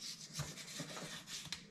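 Scraping at stubborn old deposits on a carburetor during a 1957 car's fuel system work: a string of close, gritty rubbing strokes with short bursts, no talk.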